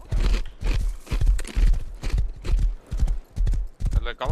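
Horse hooves clip-clop in a steady, rapid trotting rhythm in the survival game Rust, close and prominent, with a brief whinny near the end and people talking over the gameplay.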